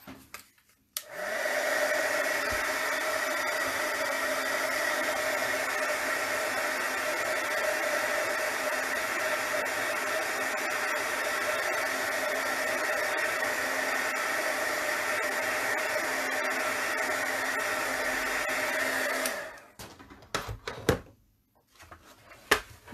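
A hair dryer blows steadily to dry a freshly made journal page, a loud continuous whir with a strong tonal hum that runs for about eighteen seconds, then clicks off, leaving faint handling noises.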